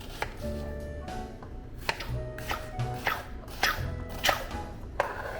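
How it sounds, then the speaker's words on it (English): Half an onion being chopped into chunky pieces on a cutting board, a series of crisp, irregular knife strikes close by, fairly quiet and alone. "Gonna use half an onion. Cut it up nice and chunky."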